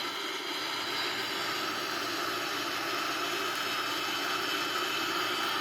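Jet engines of an Airbus A340-313X during takeoff on a flight from Canada to Switzerland: a steady, broad, roaring whoosh that holds constant and loud throughout.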